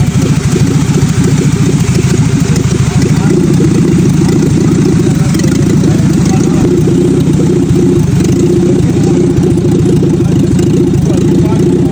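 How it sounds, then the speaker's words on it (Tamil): A Fiat Padmini car engine runs loudly and steadily without an exhaust, a raw, rough mechanical roar that stays constant throughout. "இப்போ இந்த சவுண்ட் பார்த்தீங்கன்னா எக்ஸாஸ்ட் இல்லாமல் பியூர் இன்ஜின்லேருந்து வர சவுண்டு தான் நம்ம கேட்டோம்."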